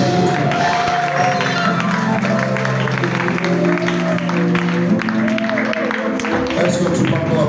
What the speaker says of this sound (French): Est-ce que tu peux encore applaudir encore?